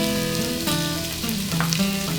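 Butter melting and sizzling in a pan as onions go in for a creamy potato and leek soup, a steady close frying hiss with faint soft clinks, no talking.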